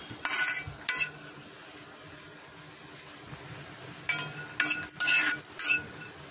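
Pistachios frying in a pan, a faint background sizzle broken by a few sharp scraping, clinking stirs of a utensil against the pan, clustered at the start and near the end.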